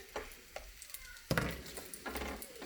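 Purple and white onions hit a hot pan for African fried rice, with a soft sizzle and stirring scrapes, a sharper clatter-and-hiss burst midway, close and fairly quiet.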